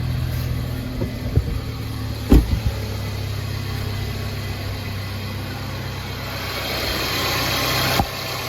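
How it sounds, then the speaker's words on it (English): A Mercedes-Benz GLC 300 idles with its AC compressor running: a steady low hum and whir, broken by a couple of sharp knocks partway through and another near the end. "The compressor is now on."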